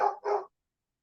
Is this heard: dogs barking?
yes